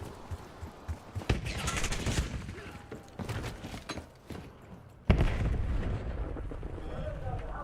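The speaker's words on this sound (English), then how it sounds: "next door guy popping fireworks." Fireworks set off next door on the Fourth of July, heard as a series of loud sharp pops and booming bursts, including a strong blast near the middle, with voices talking over them.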